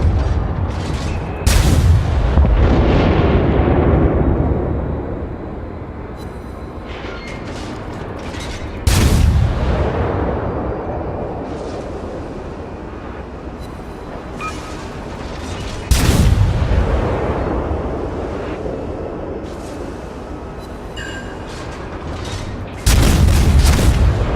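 Naval artillery salvos from warships in the World of Warships game: four loud, booming gun volleys spaced several seconds apart, each with a long rumbling decay and scattered distant shell impacts between them.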